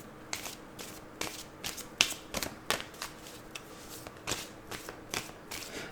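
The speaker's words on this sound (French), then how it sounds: "Je vais prendre une 13e carte par rapport à celui-là." Tarot cards being drawn and handled, with a steady run of crisp, close papery flicks and snaps spread across the whole stretch, heard alone without talk.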